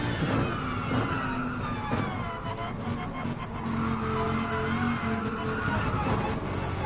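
Loud continuous engine roar with a rattling, scraping undertone as a car's underside drags and shakes over the road in Gran Turismo Sport.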